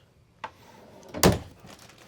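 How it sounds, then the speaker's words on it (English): Bathroom door of a 2026 Jayco Eagle 24MLE fifth-wheel RV: a light click, then a louder swinging thunk about a second later, close and clear in a quiet interior. "That door in the bathroom also opens up into here."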